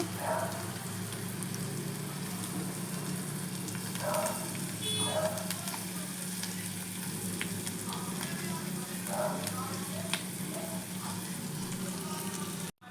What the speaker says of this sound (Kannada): ಪನ್ನೀರ್ ತುಂಡುಗಳನ್ನು ಹಾಕ್ಕೊಳ್ಳೋಣ ಸ್ವಲ್ಪ ಮೀಡಿಯಮ್ ಉರಿಯಲ್ಲಿ ಫ್ರೈ ಮಾಡ್ಕೊಳ್ಳಿ